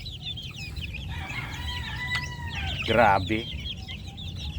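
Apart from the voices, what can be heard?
young chicks clucking and fighting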